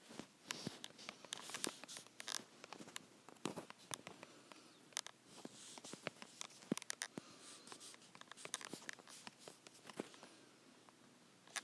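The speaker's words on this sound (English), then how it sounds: "I know I'm terrible at typing." Fast, irregular keyboard typing, with rapid light clicks and taps of keys in uneven bursts close to the microphone and no voices.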